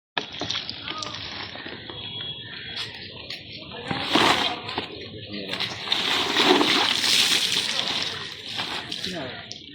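Broken mobile phones seized during exams are dropped into a water-filled drum for destruction, with wet splashes and sloshing in bursts amid ongoing nearby talk.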